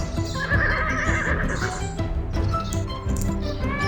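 A horse neighs and whinnies in a long, wavering call of several pulses, close and fairly loud, with some clip-clop and stable noise underneath and no voices.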